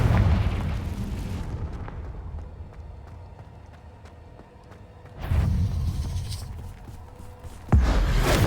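Confringo fire-spell explosions in Hogwarts Legacy, with deep booming bursts and crackling rumble, one blast near the start and two more later, over quieter ambient game sound and footsteps.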